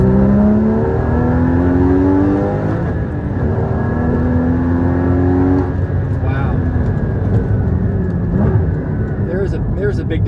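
A car engine tuned with a COBB Accessport V3 revs up repeatedly, its pitch climbing and dropping under throttle, loud and close, with a voice talking over it.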